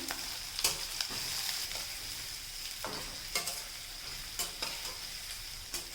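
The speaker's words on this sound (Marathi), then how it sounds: "कांदा आपल्याला लालसर होईपर्यंत परतून घ्यायचा आहे" Finely chopped onion sautés in oil with shredded cabbage for a simple cabbage bhaji, a soft continuous sizzle broken by repeated scraping stirs of a spoon in the pan, close and fairly quiet.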